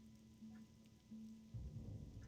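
Rain falling in World of Warcraft Classic, a faint steady hiss beneath a low tonal game hum, with a deeper rumbling swell building near the end.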